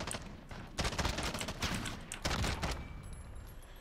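A CR-56 AMAX assault rifle fires in Modern Warfare, with loud, close bursts of rapid automatic shots separated by brief pauses, all on its own and without speech.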